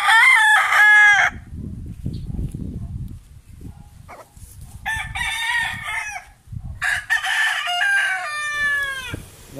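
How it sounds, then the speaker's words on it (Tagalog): Several roosters crow loudly, one after another with pauses between, while hens cluck and low murmurs fill the gaps beside a repair shop; a dog may bark faintly. "napansin natin may mga manok sa gilid ng shop nila"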